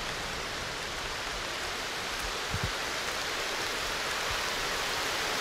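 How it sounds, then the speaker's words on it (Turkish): Steady rain hisses in the video game Aloft, an even, continuous wash of falling drops with no voices, heard close and moderately loud. "Yağmur dursana oyunda."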